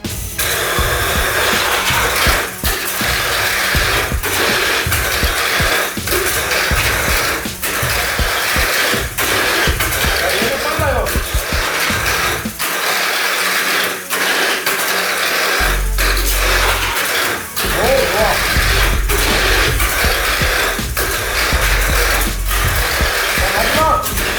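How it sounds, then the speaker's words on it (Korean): A stock-build Mini 4WD toy car, a Shining Scorpion limited edition, runs laps on a track with a steady loud whirring motor and rapid rattling clicks, continuous throughout. "VG 제 스톡 미니카 마지막 주행"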